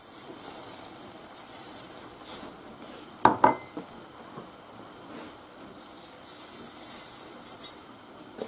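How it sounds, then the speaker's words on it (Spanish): Rice poured into a pan and sautéed for arroz a banda gives a soft, steady background sizzle, broken by a couple of sharp clattering scrapes midway and another near the end; no one speaks. "ya se ha rehogado un poquito y ahora echamos el arroz"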